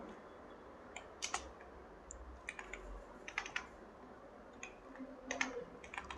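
A person types a name on a computer keyboard, with quiet, close key clicks in short irregular bursts separated by pauses.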